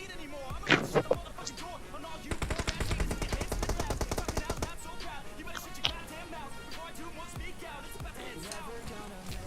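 Gunfire in the PUBG Mobile game on the Livik map: a dense burst of rapid automatic shots for about two seconds, preceded and followed by scattered single shots, with people talking over it.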